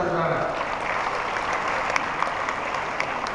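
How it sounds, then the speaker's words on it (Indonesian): Steady, dense applause from an audience at the INAICTA 2011 awards night, a continuous even wash of clapping with a few sharper claps standing out, with a speaking voice faintly mixed in. "Tepuk tangan saudara-saudara."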